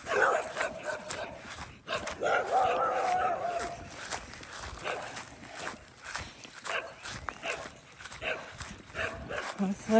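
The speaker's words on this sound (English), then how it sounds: "Every time I come outside and video, they're barking" Several dogs bark outside in a backyard in short irregular bursts, some yips among them, at moderate distance over a busy outdoor background with clattering and rustling.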